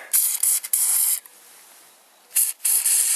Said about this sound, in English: I like to use this white lithium grease on the threads, and just a little squirt there